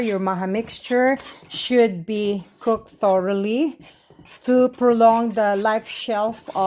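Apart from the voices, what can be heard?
No distinct noise like a dog, phone or traffic.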